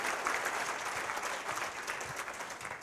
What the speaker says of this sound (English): Can we give our volunteers a hand of applause this morning